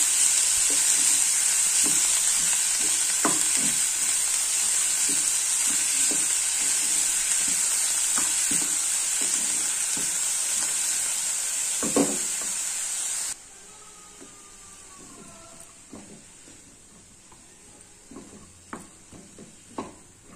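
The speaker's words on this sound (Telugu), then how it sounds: "ఎక్కువ వేయించకూడదండి, మెత్తగా వేయించకూడదు. ఊట నూనెలో వేగాలంటే వేగాలి," Pongnalu, coconut dumplings, frying in hot oil: a steady close sizzle fills the first two-thirds, then drops to a quieter crackle with occasional stirring clinks and scrapes.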